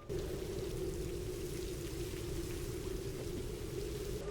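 Modded video game rain pours onto water in a dense, steady hiss with a low drumming undertone, loud and unbroken for the whole stretch, with no voices.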